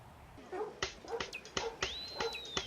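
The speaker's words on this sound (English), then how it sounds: "Canines of all shapes and sizes took to the water for the annual Paws Dog Swim." Dogs at an annual community dog swim at an aquatic center in O'Fallon, Missouri, giving a run of sharp yips and whimpering barks over a steady outdoor background.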